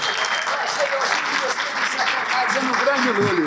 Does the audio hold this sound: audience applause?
yes